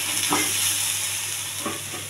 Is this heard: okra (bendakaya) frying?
yes